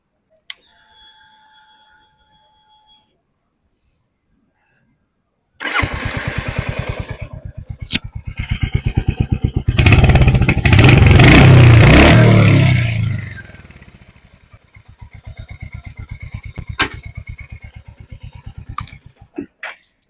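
A Royal Enfield Hunter 350 motorcycle engine starts with a mechanical clatter, then settles into a steady thumping idle, rises into a loud sustained rev for a few seconds and drops back to idle, heard close with no talking.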